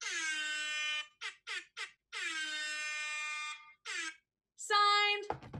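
An air horn blasting loud and near: a long blare, three quick short honks, another long blare, a short one, then a final shifting blast.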